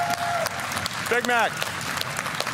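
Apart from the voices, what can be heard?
loud crowd applauding at Clash of Clans livestream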